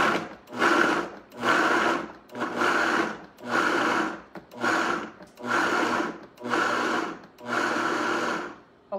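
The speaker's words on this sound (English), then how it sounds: "And this is in my blender, 2 cups of cauliflower." A blender purees two cups of cauliflower in repeated pulses, about nine loud whirring bursts in steady rhythm with short dips between them, no talking.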